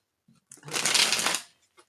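A single burst of tarot cards being riffle-shuffled, a crisp rising flutter lasting about a second, close and fairly loud, with no talking.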